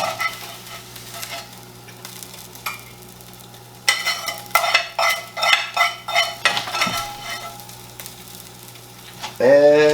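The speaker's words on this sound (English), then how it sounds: "Let's get these eggs out of the skillet." Eggs frying in a hot skillet for a holiday breakfast, a steady sizzle broken by bursts of scraping and clattering as a spatula works them loose, with a louder hiss flaring at the end.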